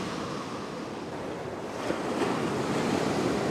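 Ocean waves washing onto a beach, a continuous broad roar of surf with wind, swelling slightly louder toward the end, with no voices.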